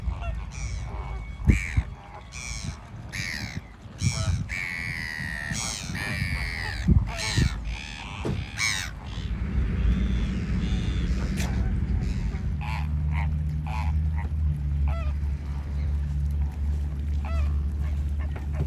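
Flamingos and migratory birds at Walvis Bay Lagoon, Namibia, let out several loud honking, cawing calls in bursts over the first half, then fade into a steady low rumble of wind or engine noise.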